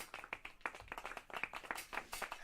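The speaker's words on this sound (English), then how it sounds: "Clap it up." Hand clapping by a lone person in a casual indoor setting, a quick irregular series of sharp claps, fairly quiet and close, with no talking.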